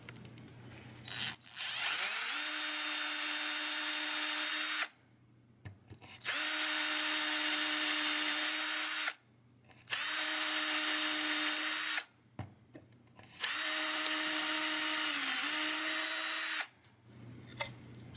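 A power drill bores through a Stratocaster guitar body into an MDF board beneath, four loud, sustained whining bursts of several seconds each, separated by short pauses.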